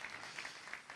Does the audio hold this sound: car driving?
no